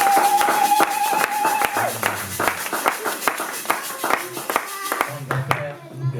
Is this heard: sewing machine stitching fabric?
no